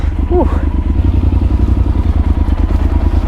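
A motorcycle engine idles loudly and steadily with a rhythmic low throb, close by, with a brief clatter near the start, in the hot Erg Chebbi desert near Merzouga, Morocco.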